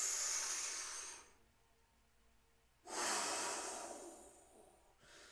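Slow, deep breaths during a guided meditation: a long hissing exhale, a pause, then another full breath in and out, close and clear with no talking over them.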